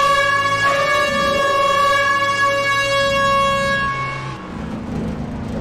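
Loud sustained air horn blasts with strong steady harmonics, blaring continuously for several seconds before cutting off into background noise.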